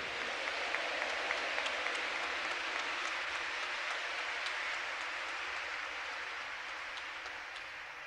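A church congregation applauds during a Catholic sermon, a dense, steady wash of many hands clapping that fills the space evenly and fades slightly toward the end.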